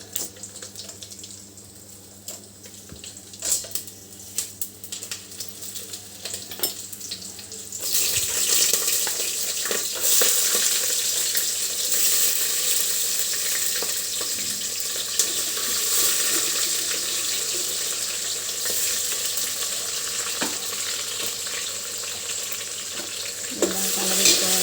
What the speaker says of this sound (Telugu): ఆయిల్ వేడెక్కిందండి, బటరు అందులో పదార్థాలన్నీ వేసుకోవాలి.